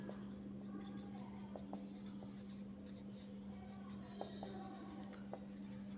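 Chalk or marker writing on a classroom board during a physics lecture on work and energy, with faint scratchy strokes and light taps over a steady low hum and soft room noise.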